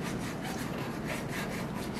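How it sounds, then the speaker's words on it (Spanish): Close, quiet rhythmic scrubbing, a brush rubbing back and forth over a bathroom sink around the faucet in quick repeated strokes. "Tallamos muy bien aquí en medio de la que es de la llave de agua"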